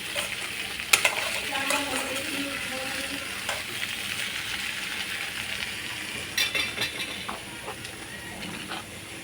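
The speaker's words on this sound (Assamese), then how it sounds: "সেইকাৰণে ভালদৰে মিক্স কৰি ল'লোঁ মই।" Bitter gourd vegetables being stirred in a wok, continuous sizzling with repeated metallic scrapes and clinks of a spatula against the pan, some sharp knocks standing out.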